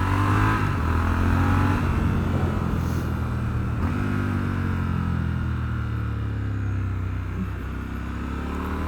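A 2021 Triumph Scrambler 1200 XE motorcycle engine works through its slipper clutch, its revs falling and climbing across gear changes. The drone is close and steady, with wind noise.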